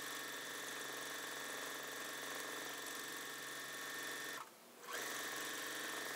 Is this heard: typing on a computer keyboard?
no